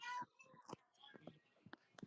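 A pet cat meows once or twice near the microphone, short and faint, mixed in with quiet talk and other small household sounds.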